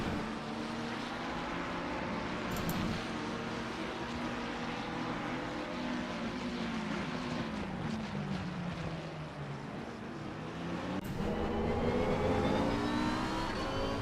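Lamborghini GT3 race car engine heard on board at Zolder in a racing game, a sustained loud drone with rising and falling pitch sweeps through gear changes and corners, no talk.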